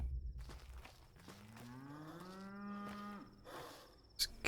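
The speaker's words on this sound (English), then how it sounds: "There's cows mewing." A single drawn-out cow moo in the video game Pathologic 2, rising then falling, clear and fairly close over a quiet background, followed by a brief click.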